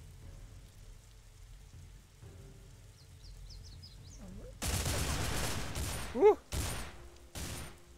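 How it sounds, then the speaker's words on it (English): Bursts of assault rifle fire in the survival video game Survivalist: Invisible Strain, starting after a quieter stretch of faint game ambience and coming in sustained loud volleys with brief gaps and some vocal sounds. "We shoot through their fence at them."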